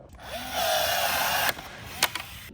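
A rivet tool fastens body parts on a Mercedes-AMG GT63 being rebuilt: a steady mechanical whir lasts about a second, then stops with a sharp snap, followed by a few short clicks and pops.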